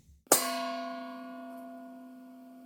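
A singing bowl struck once, processed with EQ notches and a low cut, gives a sharp metallic strike followed by a thinner ringing sustain that decays gradually, quiet and alone.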